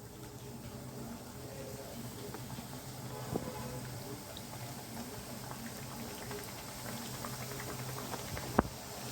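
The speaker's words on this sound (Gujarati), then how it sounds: "હવે તેમાં પૂરી આપણે તળી નાખીએ" Wheat-flour methi farsi puris frying in hot oil, a faint, steady bubbling patter with a couple of sharper pops, heard quietly at close range.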